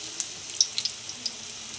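Green chili pakoras deep-frying in hot oil, a soft bubbling sizzle dotted with scattered crisp pops and crackles, close and moderately quiet, no talking.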